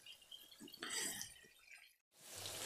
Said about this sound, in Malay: Mak nak kena perahkan air asam sedikit.